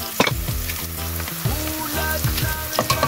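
Garlic sautéing and browning in a hot pan for a beef soup, a loud continuous sizzle with crackling pops and occasional stirring scrapes, close and without talk.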